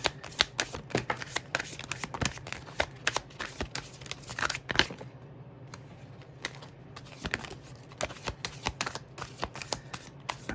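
Tarot cards being shuffled during a reading, with rapid riffling and flicking bursts that come close and fairly loud, easing off briefly near the middle before the quick, crisp shuffling picks up again.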